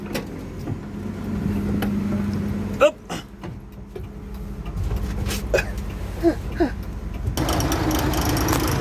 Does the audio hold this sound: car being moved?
yes